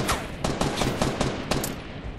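Fast gunfire in Fortnite, a loud string of sharp shots in quick irregular bursts, close and continuous for about two seconds, with no voices.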